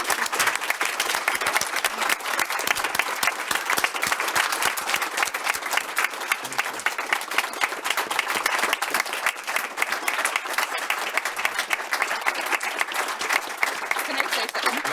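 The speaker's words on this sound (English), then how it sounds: "one big round of applause" An audience at a Murray City event gives a long round of applause, steady dense clapping from many people for about fifteen seconds, moderately loud with faint crowd murmur beneath.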